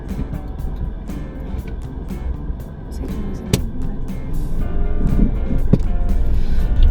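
A car pulls away and drives on during a UK driving test, with a steady engine and road rumble slowly building over a constant wind-like hiss; no voices.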